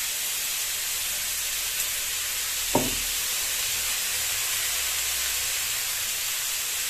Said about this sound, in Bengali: জাস্ট আমরা এখন দিয়ে দিলাম মশলাটা, আদা জিরে পেঁয়াজ বাটাটা